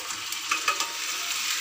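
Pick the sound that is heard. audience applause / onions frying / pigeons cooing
onions frying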